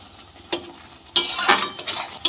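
A spoon scrapes and clinks against a pan of tomatoes simmering down for a Bengali tomato chutney, in a few short, close stirring bursts separated by quiet pauses.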